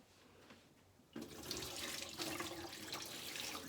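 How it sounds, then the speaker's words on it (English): Water suddenly splashes out of a measuring cup and keeps pouring in a steady, close rush with gurgling texture. "now dump off the water"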